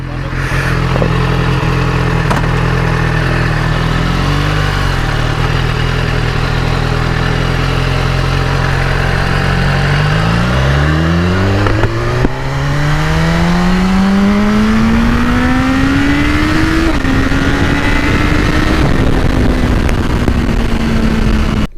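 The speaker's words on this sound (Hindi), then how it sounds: "हम बोलते हैं थोड़ी सी भगा लें हम बाइक" A 1000cc BMW S1000RR sport bike idles with a loud, steady engine note, then revs up in rising sweeps and holds at high rpm, close by and continuous throughout.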